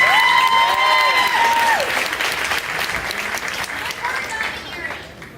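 A charity event audience breaks into loud, sustained applause with an early cheer or whoop, the clapping staying dense for several seconds before thinning slightly toward the end.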